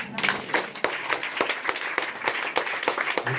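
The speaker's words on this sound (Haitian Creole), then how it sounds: "Applaudissez le Seigneur." A church congregation claps in a brisk, uneven rhythm with sharp individual hits, while voices talk and call out over the applause throughout.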